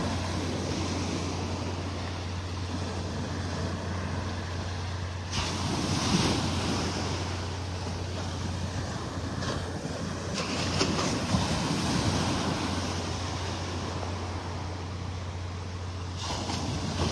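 Small ocean waves lapping on Vanderbilt Beach in North Naples make a soft, steady wash of surf with light wind buffeting the microphone, calm and fairly quiet throughout.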